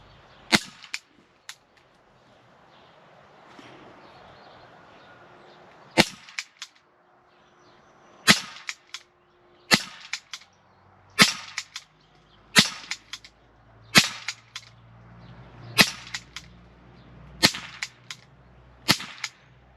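A Walther PPQ Umarex 4.5mm CO2 double-action air pistol fires a series of sharp, snappy cracks, sparse at first and then in a steady run of about ten shots, close and clear over quiet background.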